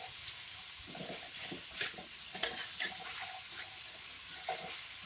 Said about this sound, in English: Just going to carry turning that around in the pan for about 2 minutes.